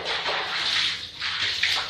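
Water splashes over a tiled bathroom floor to rinse it, a close, steady pouring wash that swells and eases across two seconds with no talk.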